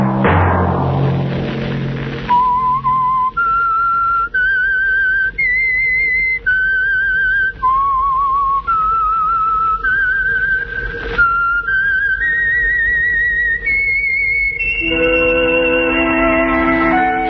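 A whistled tune carries the theme of the Signal Oil radio program The Whistler: clear, loud, melodic phrases of sustained pure notes stepping up and down. It opens with a brief burst of other sound, and a chord of music closes it.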